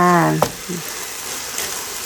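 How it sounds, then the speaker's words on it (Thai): Beef stir-fried with mushrooms and eggplant, a steady sizzle with a brief tonal sound and a clatter at the start, then hissing frying noise continuing alone at moderate loudness. "ผัดเนื้อใส่เห็ด ใส่บักเขือจ้า"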